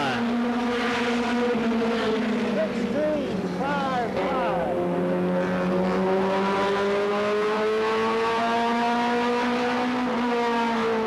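A 1988 Pontiac stock car in the Goody's Dash series on a qualifying lap at Anderson, South Carolina. Its engine drones loud and continuously, its pitch bending as it passes, with a voice talking over it.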